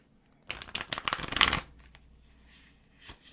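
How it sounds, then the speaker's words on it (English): A quick riffle of tarot cards being shuffled up close, a crisp flurry of flicks lasting about a second, followed by a few soft taps. "I'm going to give this a quick shuffle"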